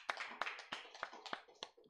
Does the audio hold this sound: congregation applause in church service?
yes